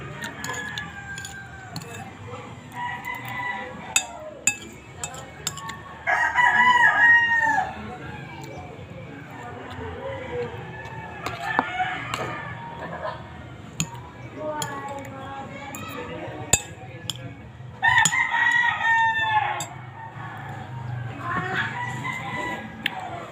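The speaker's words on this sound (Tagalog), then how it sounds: "Marami kasing maingay yung paligid sa mga maraming manok kasi sa neighbors namin" Roosters crow repeatedly, some near and loud, while hens cluck intermittently throughout, with occasional people talking in the background.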